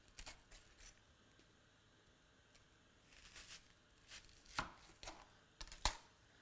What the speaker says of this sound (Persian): حالا من این پیازمو 4 قسمت میکنم.